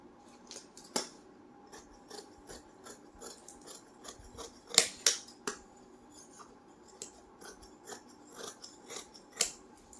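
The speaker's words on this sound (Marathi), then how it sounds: "आता बाही कट करताना चार फोल्डमध्ये आपल्याला कपडा घ्यायचा आहे" Scissors snip through blouse fabric folded into four layers for cutting a sleeve, a run of crisp, close cuts with irregular pauses and slight rasping between strokes, heard alone with no talking.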